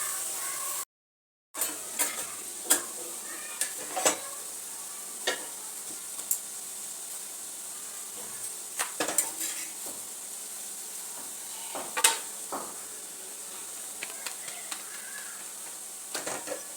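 Chicken fries with onions in a pan, a soft, steady sizzling hiss broken by scattered light clicks and scrapes as it is stirred, fairly quiet throughout.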